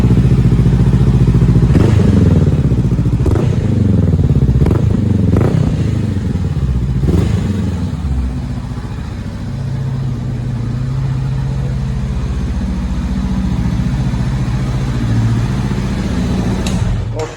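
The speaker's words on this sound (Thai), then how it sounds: "Honda CB 500F เนาะมา ฟังเสียงท่อกันหน่อยเนาะ" A 2020 Honda CB500F motorcycle engine revving up hard a few times with sharp throttle blips through its exhaust, then settling into a steady, rumbling idle close by.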